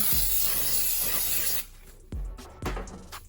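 A can of cooking spray hisses into a cake pan in a kitchen: one long close spray, then two short bursts after a brief pause.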